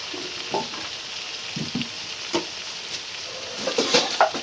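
Onions and garlic fry with garlic and ginger paste in a pan, a steady close sizzle broken by occasional stirring scrapes and soft bubbling pops that grow busier toward the end.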